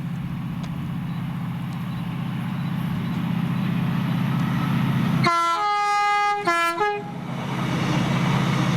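A Class 68 locomotive-hauled train on a Glasgow to Walton working rumbles past steadily, then sounds its loud two-tone horn in two short blasts before the rumble resumes.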